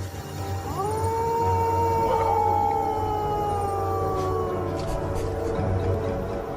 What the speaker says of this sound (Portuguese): E este cão selvagem não está sozinho.